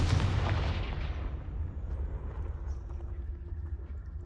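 A Confringo fire spell cast in Hogwarts Legacy bursts with a loud, booming blast at the start, then fades into a low rumbling tail with no voices.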